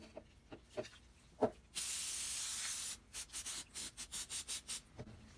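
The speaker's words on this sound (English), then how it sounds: "Carb cleaner." Carburetor cleaner sprayed onto the carburetor of a Bolens MTD riding mower: one long steady aerosol hiss near the mic, followed by a run of short rhythmic spray bursts, with a few light clicks before it starts.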